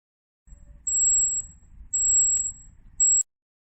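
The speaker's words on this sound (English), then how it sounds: "Normally it takes 25 to 45 seconds and you will hear a beep," A digital thermometer gives three sharp, high-pitched electronic beeps when its reading finishes. The first two are longer and the last is short, each sounding close and clear over a faint low rumble.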